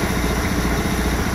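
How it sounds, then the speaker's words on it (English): A 9-horsepower engine turns slowly while driving a belt-drive generator, producing a steady low, throbbing idle with an even pulsing rhythm, close and continuous with no voices. "I have a 9-horse engine turning very slow, so it's not making full power"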